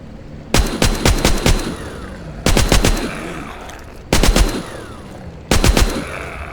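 Minigun fire in the zombie video game The Walking Zombie 2: four separate bursts of rapid, loud shots with short pauses between them, and no voices.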